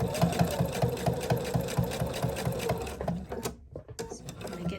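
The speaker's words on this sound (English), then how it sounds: "do a fixed stitch or a back stitch and sew all the way around" A sewing machine runs steadily, stitching fabric around a flange with the needle stopping down, its fast even chatter continuing close by before slowing and stopping near the end.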